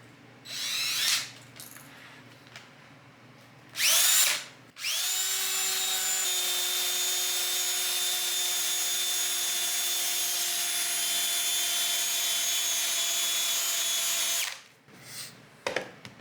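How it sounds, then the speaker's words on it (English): A power drill spins a wire wheel against a phone screen protector, giving a steady, loud whirring grind that runs for about ten seconds after a few short revving bursts, then stops. "So first I'm going to start with the drill. I'm going to use a wire wheel."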